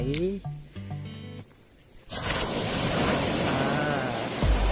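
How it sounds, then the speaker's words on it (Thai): Ocean waves wash onto Bang Sak beach, a broad rushing surf that swells in after someone speaks briefly, then continues steadily close by. "ฟังเสียงคลื่นนะครับโอ้โหฟังจากเสียงคลื่น สดชื่นนะครับ"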